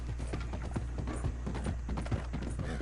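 Horse galloping at good speed in Red Dead Redemption 2, rapid repeated hoof thuds in a steady rhythm over low background hum, fairly faint.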